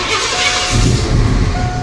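A Ford Mustang GT engine with severe misfires runs loud and close, a rough, uneven rumble that thickens into a heavier, lumpier low drone partway through.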